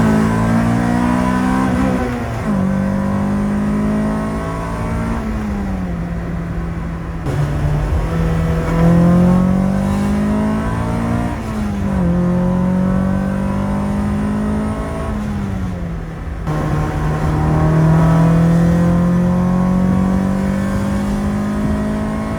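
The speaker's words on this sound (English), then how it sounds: "once we get up here on the straight, we'll do a few pulls" A Honda Civic engine revs hard through repeated acceleration pulls from inside the cabin, rising in pitch, dropping at each gear change and climbing again, loud and sustained.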